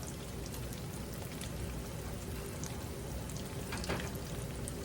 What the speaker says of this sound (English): Just fry them up.